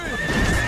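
A cartoon horse gives one short, loud, close neigh, a whinny with no talk over it.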